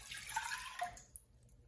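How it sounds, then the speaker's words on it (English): Water from a pre-measured cup is poured into a saucepan on a stove, making a short, soft splashing trickle that tapers off after about a second. "I'm gonna go ahead and pour in my pre-measured 1 cup of water."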